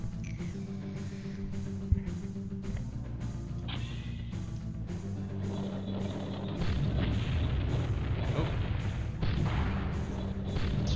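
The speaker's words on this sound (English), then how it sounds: "Destroy both movie projector buildings with the grenades." Grenade explosions destroying buildings in the BattleTanx Global Assault video game, heard as repeated muffled booms and rumbling blasts over a steady game engine drone, growing denser toward the end.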